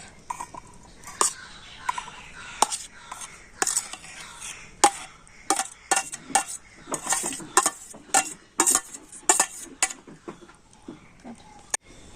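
Cut pieces of ripe mango dropped into a mixer grinder jar, a string of sharp clinks and knocks in an irregular rhythm, close and fairly loud, under a voice talking softly.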